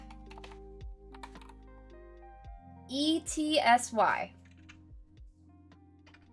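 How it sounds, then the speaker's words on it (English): Fingers typing on a computer keyboard, scattered quick key clicks coming in bursts while people talk nearby. "Oh, I wish I could see the keyboard when I type."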